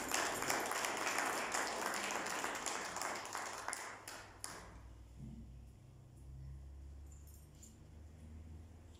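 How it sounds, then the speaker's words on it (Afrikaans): A crowd claps together at a church gathering over Easter weekend, a dense, steady patter of hands for about four seconds before it fades out, leaving a quiet low hum. "Kom ons klap hande"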